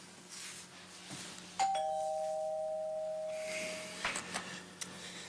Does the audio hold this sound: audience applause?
no